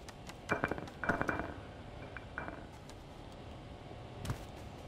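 Glass objects clinking and clattering as a cat knocks them over in the video game Stray, a few faint rattling clinks in a short burst, then a lone clink later over quiet ambience.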